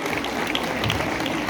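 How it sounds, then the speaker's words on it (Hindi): Continuous dense clapping from an audience applauding a teacher at a college cultural fest in Sri Ganganagar, a steady wash of many hands at moderate loudness with no voices over it. "एक बार जोरदार ताली हो जाए हमारे टीचर के लिए"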